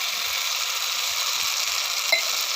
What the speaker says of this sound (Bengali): মশলাটাকে আমি এবার কষিয়ে নিচ্ছি